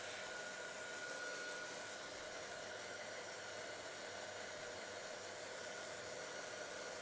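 Steady broadband whoosh of a hair dryer blowing over a craft journal page, constant and fairly close with a faint tonal whine, running alone without pause.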